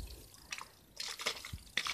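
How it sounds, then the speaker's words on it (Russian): Water poured into a plastic lunch box container bought from AliExpress, heard as a few short splashing and trickling bursts with soft drips in between, close by and fairly quiet. "Я принесла воду, чтобы попробовать посмотреть, как он будет держать жидкость."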